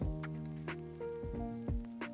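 Water is sprayed as rain over a tiny moss terrarium planted with star, badge and thread moss, heard as soft pulsed spritzes over a low background hum.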